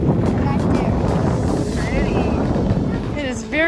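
Gusty wind buffeting the microphone outdoors on a cold road trip near Craters of the Moon National Park, a loud, rough continuous rumble with faint whistling tones rising near the end.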